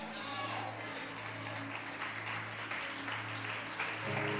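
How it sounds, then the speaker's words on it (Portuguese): Church congregation clapping steadily while rising to their feet during a worship service, a continuous wash of applause with a low sustained tone from music or organ underneath and some voices mixed in. "vai aplaudindo e ficando de pé"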